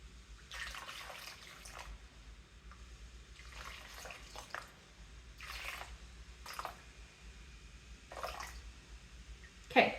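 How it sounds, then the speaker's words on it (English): Water is poured into a bowl in uneven bursts while making bread dough, several short splashing pours separated by pauses, moderately close and fairly quiet. "So I'm going to do 700 grams of water."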